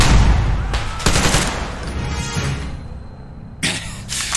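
Rapid bursts of gunfire in the video game Metro Exodus, a loud, dense fusillade of automatic fire with several sharp volleys and a brief lull before more shots.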